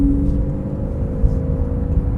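A Porsche 911 991.1 Carrera S, the 395-horsepower model, builds speed with a steady, loud low engine drone and a rising whir. The sound holds throughout with no talking.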